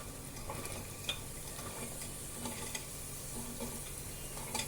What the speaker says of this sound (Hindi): प्याज डाल रही हूँ मैं।